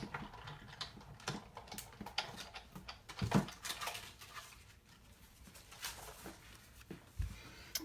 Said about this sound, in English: So I'm running it through my Big Shot.